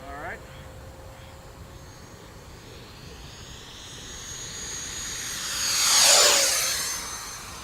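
A radio-controlled model F-16 jet, a 70mm electric ducted-fan type, swells in from a distance and roars loudly past at close range around six seconds, then fades, with people talking lightly nearby.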